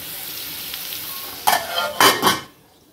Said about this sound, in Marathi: इथे कैरीला 5 मिनिट आपल्याला तेलावर वाफू द्यायचं आहे